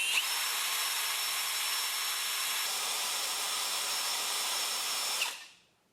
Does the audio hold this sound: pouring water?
no